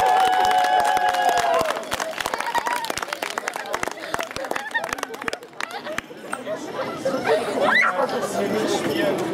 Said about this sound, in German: Einen Applaus!